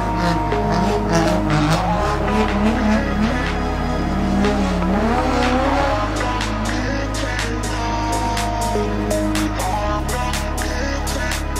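Drift cars at Ebisu Circuit during a drift night, a constant loud roar of engines with droning exhaust, tire squeal and screeching skids, layered and continuous with no talk.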